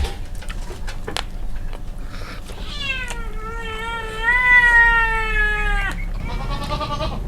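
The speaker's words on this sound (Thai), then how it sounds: "บางทีนี่แมวกวน" A cat meows repeatedly in long, drawn-out, wavering calls, close and fairly loud, with a shorter meow at the end over a low background rumble.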